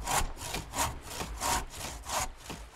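A crosscut saw rips through white pine in steady back-and-forth strokes, about five rasping pulls in under three seconds, close and fairly loud with no voices.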